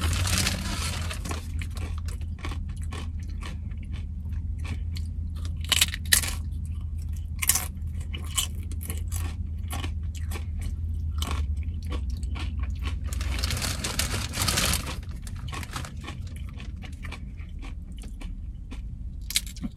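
Someone chews tortilla chips with spinach dip close to the mic, giving continuous crisp crunching and bites across the clip, with no talk.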